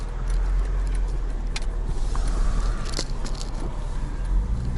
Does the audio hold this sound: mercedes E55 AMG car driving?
yes